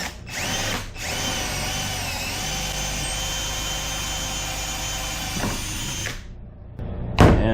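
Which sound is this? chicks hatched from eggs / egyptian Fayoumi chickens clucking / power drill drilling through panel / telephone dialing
power drill drilling through panel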